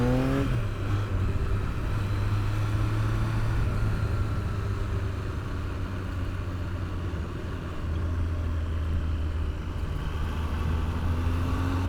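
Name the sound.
Triumph Daytona T595 motorcycle engine while riding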